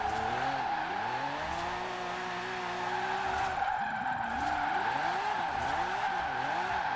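A Lamborghini Aventador J drifts in Forza Horizon 4, its engine note rising and falling with throttle changes under long, continuous tire squeal and skidding, close and steady throughout with no talking.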